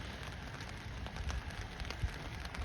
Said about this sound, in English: there's a lot of rain today